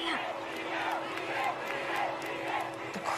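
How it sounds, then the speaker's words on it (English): A large concert crowd in São Paulo roars for a pop singer, a dense, steady wash of screaming and cheering heard somewhat faint and distant. "The crowd going mad for me"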